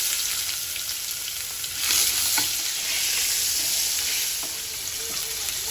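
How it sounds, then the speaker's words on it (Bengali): Panch phoron spices and garlic dropped into hot oil in a frying pan, giving a loud, steady, close sizzle with brief swells and occasional stirring scrapes, no talking. "ফ্রাই প্যানে তেল গরম হয়েছে পাঁচ ফোড়ন দিয়ে দিচ্ছি"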